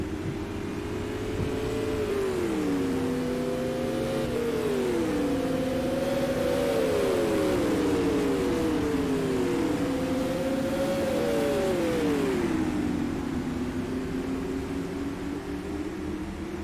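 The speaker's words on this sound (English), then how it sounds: "Keyser's going to be coming up to lap the number 35 of Warren" Non-wing supermodified race cars in a racing sim game lap a track, several engines droning and rising and falling in pitch as they pass one after another, steady and fairly loud with no talk.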